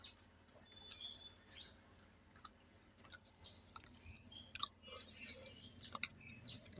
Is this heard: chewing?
yes